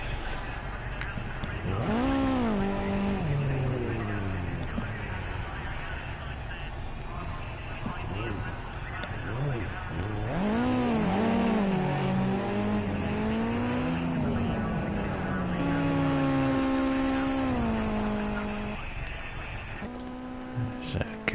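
Race cars lap Donington Park National circuit in a racing game, engines rising and falling through repeated gear changes and accelerations, with a commentator talking over the steady engine sound.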